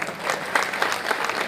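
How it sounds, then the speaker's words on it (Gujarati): Short burst of audience applause at a Gujarati folk music program, dense clapping from a crowd, moderately loud and fairly close. "તો એને તાળીઓથી વધાવો"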